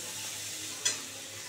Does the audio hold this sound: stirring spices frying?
yes